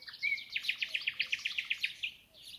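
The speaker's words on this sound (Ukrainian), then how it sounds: "тому що так гарно співають птахи." A bird sings a rapid, steady trill of bright high chirps, close and clear for about two seconds, then it trails off into a softer call on a quiet morning.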